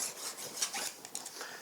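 Close, steady rasping strokes of a file working the rakers on a Stihl MS291 chainsaw chain, a quick series of scraping passes with no talk.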